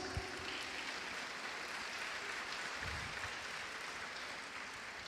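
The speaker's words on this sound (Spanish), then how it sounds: "le recibimos con fuertes aplausos" A lecture audience applauds to welcome the friar Fray Martín Carbajo: a dense, even wash of clapping that keeps going for several seconds at a moderate, slightly distant level, with no talking.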